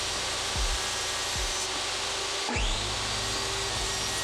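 Table saw running steadily and cutting a thin aluminum sheet, a loud continuous whine with several brief bumps and a sharper surge midway as the blade bites the metal.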